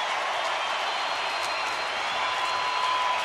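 A crowd of over 43,000 at a baseball stadium stands and applauds, a steady, dense wash of clapping and cheering that holds throughout at even loudness.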